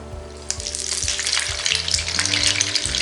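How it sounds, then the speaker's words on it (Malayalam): A tablespoon of butter sizzles loudly in a pan of hot oil, a continuous crackling fry with low stirring clunks, close and with no talk. "ഇനി നമുക്ക് സെയിം ഓയിലിൽ തന്നെ 1 ടേബിൾ സ്പൂൺ ബട്ടർ ഇട്ട് കൊടുക്കാം"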